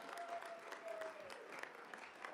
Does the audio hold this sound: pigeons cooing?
no